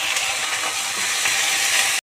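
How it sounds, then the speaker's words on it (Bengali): Onions frying with ginger-garlic paste in a pan, a steady loud sizzle with faint stirring scrapes, no talk, cutting off abruptly near the end. "এখন আমি আদা রসুন বাটাগুলো দিয়ে দেব, কারণ একটু ভালো মতো ভাজা হবে।"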